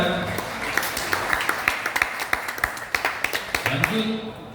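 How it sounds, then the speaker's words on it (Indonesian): Church congregants at a vocal group competition results announcement clap in sharp, scattered bursts that form a loose rhythmic pattern, with voices and other sounds continuing underneath. "Tepuk tangan."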